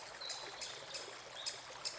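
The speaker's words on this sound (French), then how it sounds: "une rivière argentée s'écoule paisiblement" A jungle river flows gently under moonlight, a faint, steady trickling wash with a few soft bright splashes.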